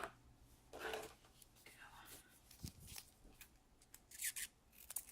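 Close scissors snip and rasp through soft mounting foam in several short cuts, with faint whispering and handling noises around them.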